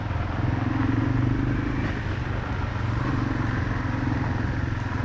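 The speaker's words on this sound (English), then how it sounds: "I'm still learning to stand and ride on this bike" Yamaha off-road motorcycle running steadily on a mountain trail in Japan's Gifu mountains, a continuous close engine drone with some clatter and no talk.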